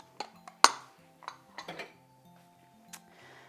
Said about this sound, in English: I'll get rid of some of these bowls.